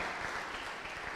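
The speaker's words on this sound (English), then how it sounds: "Let's give Catherine a round of applause" A short, dense burst of applause from a church congregation, many hands clapping at once, steady and fairly loud.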